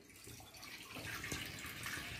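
A cup of water poured into a hot kadhai wok on the stove, a steady splashing, bubbling rush that runs for the whole moment, close and moderately loud with no talking.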